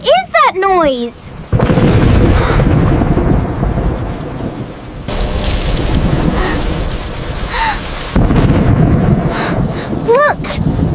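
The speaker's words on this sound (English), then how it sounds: "The thunder is so loud!" Heavy rain pours steadily while thunder cracks and rumbles loudly several times, with short vocal cries and whimpers at the beginning and end.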